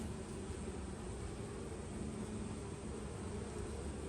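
Honeybees in an open hive during a frame inspection of a six-week package colony, a steady, dense hum filling the whole stretch with no speech over it.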